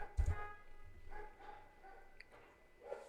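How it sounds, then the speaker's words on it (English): Dogs bark faintly outdoors in a few scattered, distant yaps and woofs over a quiet room background. "Some dogs are barking outside, if you can hear it."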